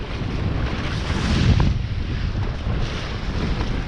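Wind rushes steadily across the microphone aboard a small sailing dinghy in about 15 knots of breeze, a dense, close roar mixed with the wash of water against the hull.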